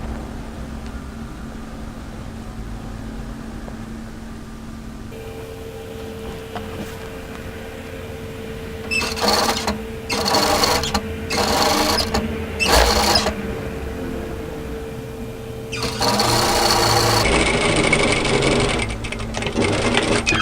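A sewing machine stitches the shoulder seam of a kimono kaftan at one centimetre, with a steady motor hum, several short bursts of rapid stitching in the middle and a longer run near the end, heard up close.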